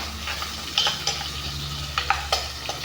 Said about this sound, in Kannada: ಚೆನ್ನಾಗಿ ಫ್ರೈ ಮಾಡ್ಕೋಬೇಕು ಜೀರಿಗೆ ಮೆಣಸು ಬೆಳ್ಳುಳ್ಳಿ ಮೆಣಸಿನ್ಕಾಯಿ ಸ್ವಲ್ಪ ಚೆನ್ನಾಗಿ ಫ್ರೈ ಆದರೆ ಚೆನ್ನಾಗಿರುತ್ತೆ ಚಟ್ನಿಗೆ